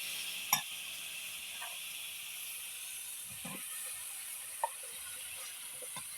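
Young home-grown bottle gourd cooks in a pan with a soft steady sizzle and hiss, broken by a few faint stirring clinks and scrapes.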